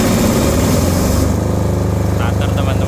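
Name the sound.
Krisbow 5 kVA generator starting automatically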